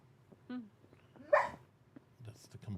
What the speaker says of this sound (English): That's the complaint bark.